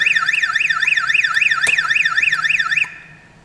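A loud, close AliExpress aftermarket car alarm siren wails in rapid rising-and-falling sweeps for nearly three seconds, then cuts off abruptly, leaving a faint tail.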